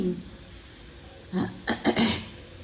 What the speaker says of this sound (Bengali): আর কাশি হচ্ছে